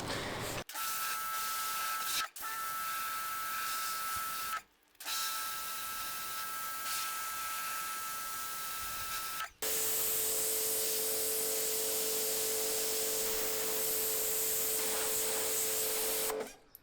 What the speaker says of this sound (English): get your pressure washer and get really close